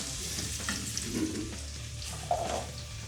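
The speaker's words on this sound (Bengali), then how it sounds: "এখানে আবার আলু ভাজি হচ্ছে" Potatoes frying for biryani, a steady close sizzle of hot oil running throughout with small crackles and a couple of louder bubbling bursts, no voices.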